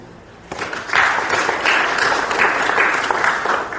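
An audience bursts into sustained applause for a book-cover photographer at a French book event, the clapping rising sharply and holding steady at close range without speech.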